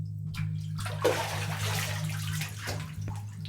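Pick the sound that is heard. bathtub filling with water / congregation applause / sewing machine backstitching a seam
bathtub filling with water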